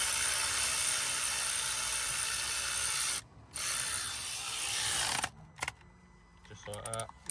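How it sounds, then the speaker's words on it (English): Ratchet with a 30mm socket tightening a bolt during a wet belt job on a Ford Transit Custom, a dense run of clicking pawl sounds close by, pausing briefly, then giving way to a few short sparse clicks at the end. "I'll give it a little wrist nip for the ratchet"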